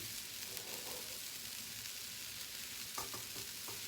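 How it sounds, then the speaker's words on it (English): Chardonnay poured into a hot pan to deglaze chicken drippings gives a faint, even hissing sizzle, with a few light scrapes near the end. "what this is going to do is what we call deglaze all of the drippings"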